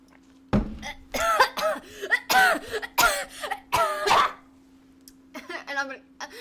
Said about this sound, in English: I've been coughing a lot.